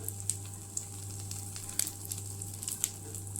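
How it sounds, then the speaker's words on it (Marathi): An egg fries in a hot pan for a Kolhapur-style khandoli dish, giving a steady low sizzle with scattered small pops and crackles and no voices. "गरम झालंय, अंडा टाकला"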